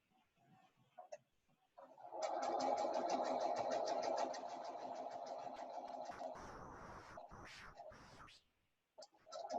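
A sewing machine stitching quilt blocks runs in a steady, fast, buzzing rattle for several seconds, then slows and stops, followed by handling and thread-cutting noises up close.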